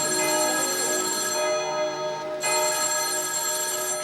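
A telephone rings in the offices of the Lille judicial police, a steady electronic bell tone that repeats loud and close, with one short break before it resumes.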